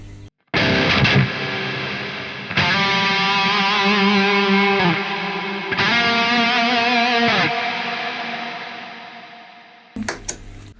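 A distorted electric guitar played through a Fortin Zuul noise gate with a reverb pedal rings out in three sustained, loud chords, each decaying with a reverb tail, with no talking.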